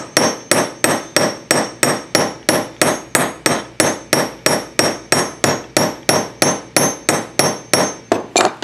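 A texturing hammer strikes metal again and again in a fast, steady rhythm, each blow sharp and ringing, close and loud with no voices.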